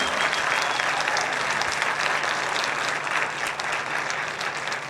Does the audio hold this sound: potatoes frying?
no